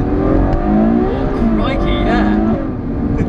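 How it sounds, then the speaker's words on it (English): A Ferrari GTC4 Lusso V12 under full throttle builds a loud, close engine roar with rising revs, steady and continuous through the whole stretch. "If I put my foot completely flat, really, really, really, really, really quick."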